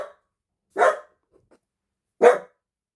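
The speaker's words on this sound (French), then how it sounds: "interruption chien" A dog barks twice, sharp single woofs about a second and a half apart, fairly close and loud in an otherwise quiet workshop.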